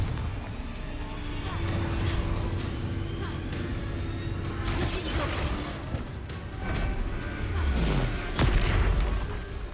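Confringo fire spells bursting in the Hogwarts Legacy game during a fight, producing repeated booming blasts and crackling impacts over a dense, continuous battle soundscape.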